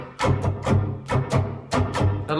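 Guitar strummed in a rhythmic chugging pattern for a song, moving between chords, with evenly spaced loud strokes and short pauses, played alone up close.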